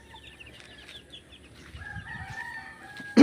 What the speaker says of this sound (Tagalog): Marami din palang manok dito.